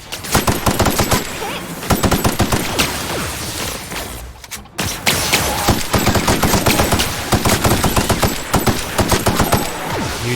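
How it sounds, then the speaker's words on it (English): Rapid automatic assault rifle fire in The Outer Worlds, loud and continuous in dense bursts with a brief pause near the middle before the shooting resumes. "we're going to take care of using my fancy new assault rifle"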